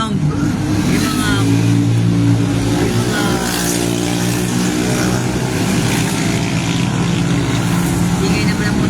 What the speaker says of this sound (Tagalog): ingay naman ang motor. Highway kasi